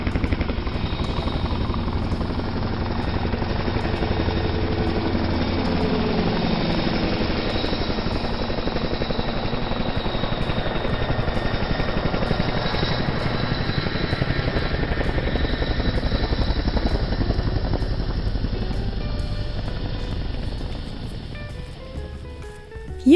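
A giant cartoon transport helicopter flies steadily, a continuous loud rotor and engine drone that holds for the whole stretch before a faint rise at the end.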